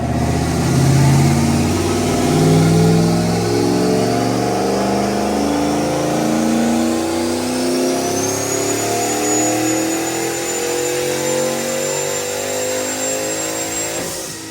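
Turbocharged Ford Mustang engine rising through the revs while driving, with steady harmonic climbs between gear changes, a turbo whine building high above, loud and close throughout with no talking.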